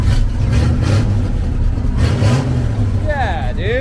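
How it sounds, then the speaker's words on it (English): An old dump truck engine runs loud and rough, surging in a few low revs over a steady rumble, with voices talking over it near the end. "Give it a little bit of a rev."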